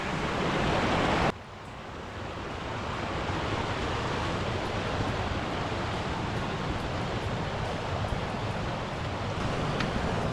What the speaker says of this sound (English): The river at the moment's probably about as high as it ever gets